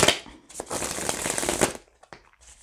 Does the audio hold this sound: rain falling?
no